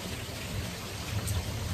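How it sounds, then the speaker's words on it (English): Heavy rain pours down in a dense, continuous hiss, with no voices present. "this is just a good downpour"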